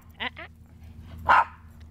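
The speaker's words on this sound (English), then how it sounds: "Juicy, no barking." A dog gives two quick barks near the start and a louder bark or yelp later, with a household voice nearby and faint background hum.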